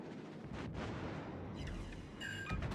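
Naval guns fire at the Schultz in World of Warships: Legends, with rumbling booms and a dense broadband roar of cannon shots and impacts, steady and fairly quiet.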